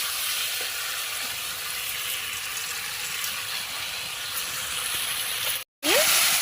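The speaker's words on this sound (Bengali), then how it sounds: "এই তেলের ওপরে এবারে আমি চাল ভাজাটা দিয়ে দেবো" Steady, close sizzling of rice frying in hot oil, a dense crackling hiss that continues throughout, briefly cutting out near the end before resuming.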